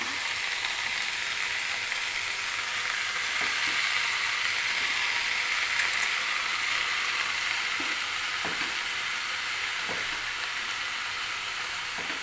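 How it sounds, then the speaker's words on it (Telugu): Chopped amaranth leaves frying with softened onions in a pan, turned over and over: steady hissing sizzle throughout with faint intermittent scrapes and taps, close and even, no speech. "కొంచెంసేపు ఇలా కిందికి పైకి ఇలా కలుపుకోవాలి"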